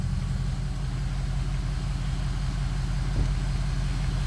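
A car engine idles just after starting: a steady, close, low rumbling hum holds level throughout with no voices.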